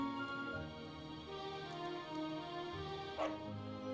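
A dog in the Dragon Quest XI video game gives a few short barks and yips over steady game music, with one sharper bark near the end.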